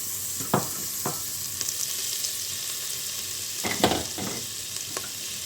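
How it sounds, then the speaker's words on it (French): Butter melts and sizzles in the hot pot of a Cookeo multicooker, a steady soft frying hiss broken by a few light scrapes and taps of a silicone whisk against the pot. "J'ajoute mon beurre. On fait fondre."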